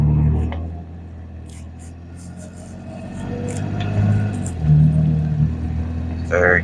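A BMW E9X M3 engine pulls hard in third gear from inside the car, a steady low rumble that swells and rises through the run, with faint cabin noises on top.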